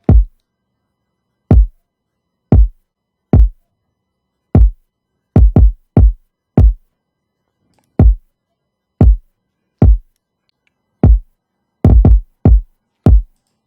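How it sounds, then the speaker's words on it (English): Kick drum of a drill beat played alone, short punchy low thumps in an irregular, syncopated pattern with some quick doubled hits and clean silence between. "So the kick sounds like this."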